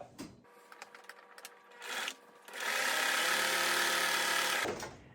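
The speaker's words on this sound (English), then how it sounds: "we are going to sew down both of these straps to make them nice and neat and so that they won't get wonky in the wash" A sewing machine top-stitching down apron straps runs in a steady whirring burst for about two seconds, preceded by a brief shorter run and light handling of fabric.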